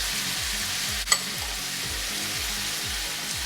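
Chicken sautéing in a pan with ground ginger and black pepper, a steady loud sizzle with a sharp utensil knock partway through over a low background hum.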